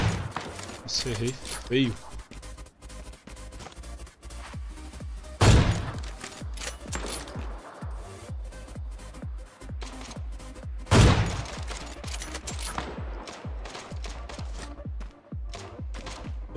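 Gunfire from the battle royale video game Knives Out, with two loud, sharp shot bursts standing out amid ongoing game ambience, while someone talks excitedly throughout.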